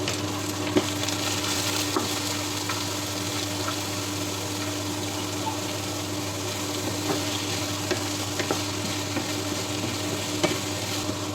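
Onion and curry leaves frying in a pan for egg curry, a continuous even sizzle with a low steady hum beneath and scattered light clicks of stirring, no voices.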